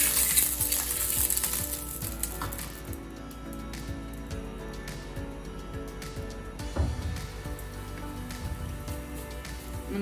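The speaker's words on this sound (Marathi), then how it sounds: "आता हे आपण भाजून घेऊ थोडं तेल सोडायचं" Moong dal sanjori, a stuffed flatbread, fries in oil on a pan, giving a steady close crackling sizzle that keeps on without a break and with no voices.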